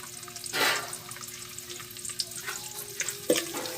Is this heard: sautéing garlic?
yes